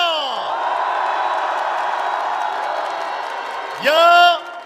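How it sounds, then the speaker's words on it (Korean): A large outdoor crowd at an opposition parties' rally calling for President Yoon Suk-yeol's removal claps and cheers in a steady, loud roar, with an amplified voice shouting over it at the start and end. "헌재를 위해 뜨거운 응원의 박수를 보내줍시다"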